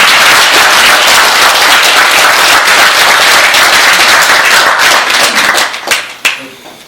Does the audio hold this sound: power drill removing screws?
no